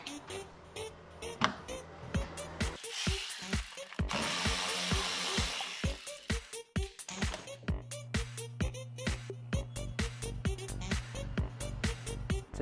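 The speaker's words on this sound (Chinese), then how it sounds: "于是我决定先使用工具把下护板拆掉。" A ratchet tool removes the lower engine guard panel on a Luxgen U7, with rapid close clicking pawl bursts alternating with a sustained whirring spin and repeated ratcheting strokes.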